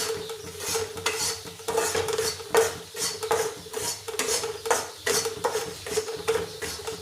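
Flour roasting in ghee is stirred steadily in a pan with a spoon, giving repeated scraping strokes over a soft sizzle, close and fairly loud with no talk.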